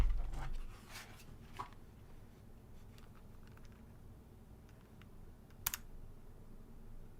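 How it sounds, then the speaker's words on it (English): Scattered computer keyboard key presses, including an F11 press, a few light taps and one sharper click, fairly close and quiet with no talking. "Push F11 on your keyboard."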